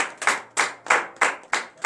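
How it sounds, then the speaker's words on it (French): A church congregation clapping hands in a steady rhythm, six sharp, loud claps at even intervals, close and clear with no voices. "je vous demande d'applaudir très très fort ce grand Dieu ce matin"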